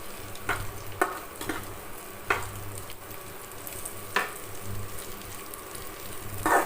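Masala-coated dried fish frying in oil for a brinjal curry gives a steady close sizzle with a few scraping stirs at intervals, and no voices.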